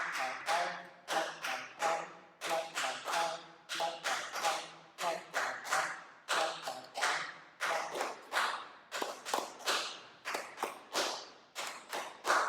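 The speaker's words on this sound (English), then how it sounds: "I'm trying to keep time with my feet" A person taps their feet to keep time with a rhythm, producing crisp, evenly spaced taps in repeating groups of three or four, close up and alone with no talking.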